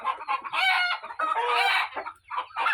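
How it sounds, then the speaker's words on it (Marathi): Pure desi free-range country chickens, about 140 days old including roosters, clucking and crowing close by in a loud, continuous chorus with no talk. "हे प्युअर गावरान पक्षी आहेत."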